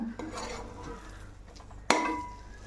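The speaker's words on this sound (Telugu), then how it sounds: "ఇలా తిప్పుకుంటూ ఉండాలండి అసలు అడిగట్టకూడదు" Spoon scraping and stirring cooked lentil filling (purnam) in a pan for village-style burelu, with soft clinks of utensil on metal and a sharper scrape near the end; no talk.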